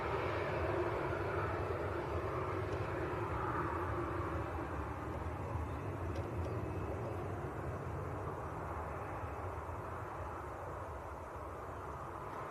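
At Leeds Bradford Airport, a passenger aircraft rolls down the runway after landing, and a loud, steady engine roar with broadband rumble fades slightly as it slows. No one speaks.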